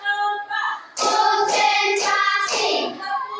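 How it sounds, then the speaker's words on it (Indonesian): A class claps hands in short counted bursts, about four distinct claps spaced roughly half a second apart, each landing over a group of voices chanting in unison. "Tepuk satu. Tepuk dua. Tepuk tiga. Tepuk empat."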